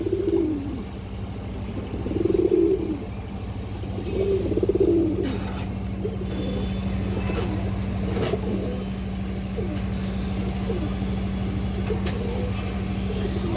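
Nazra Kaldom pigeons give several rounded, throaty coos early on, then fall quiet beneath a steady engine-like drone with scattered sharp clicks and knocks.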